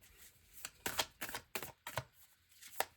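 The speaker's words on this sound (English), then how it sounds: "this deck is so hard to just shuffle cards out of" A tarot deck being shuffled in several quick, crisp riffling bursts, each a short papery rush separated by brief pauses, close and fairly quiet with no talking.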